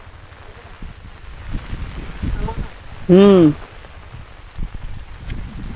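Rain falls with a steady low patter during shrimp catching with bamboo traps, moderate and even throughout, interrupted by a short hummed voice near the middle.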